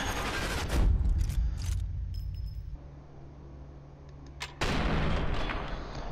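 A sniper rifle shot in the video game Sniper Elite 4 gives sharp, loud blasts with a rumbling tail, followed by quieter game ambience and then another burst of noise near the end.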